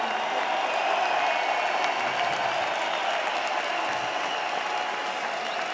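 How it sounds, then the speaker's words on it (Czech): Arena crowd applauding after an OKTAGON MMA fight, a broad, sustained wash of clapping and crowd noise at a steady level, filling the space with no speech on top. "Potlesk arény"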